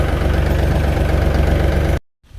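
A tractor that has hauled a material load sits idling close by, a loud steady low rumble that cuts off abruptly near the end.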